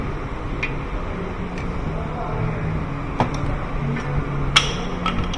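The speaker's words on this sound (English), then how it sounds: "As that pad falls too" A Honda Pilot brake pad drops from the caliper with a light metallic clink, followed by a couple more small taps and ticks over a quiet workshop background.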